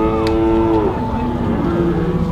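Dairy heifers at a livestock auction moo loudly with long drawn-out calls that overlap, mixed into the steady murmur of a crowded sale barn.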